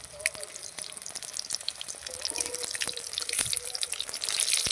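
Amudi fish pakora frying in hot oil, a steady crackling sizzle with scattered pops that grows louder toward the end, heard alone without talk.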